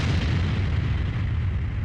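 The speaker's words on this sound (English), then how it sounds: "What the? An explosion? It came from where I was before." A sustained, heavy rumbling boom from an explosion during RWBY-themed gameplay fills the whole stretch, loud and dense with low-end roar and no talk over it.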